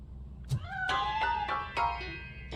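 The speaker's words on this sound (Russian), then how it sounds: "That cat must be hiding inside." Several short meows from a cat hidden inside a piano in the video game RoboCop: Rogue City, rising and wavering, moderately loud over a low hum.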